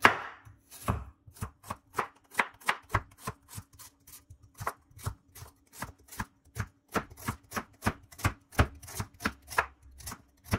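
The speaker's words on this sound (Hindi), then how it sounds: "यहाँ पे मैं गाजर के छोटे छोटे पीस कर लूंगी" Carrots chopped into small pieces with a knife on a cutting board: a long run of crisp, evenly spaced strokes, close and clear, with no talking.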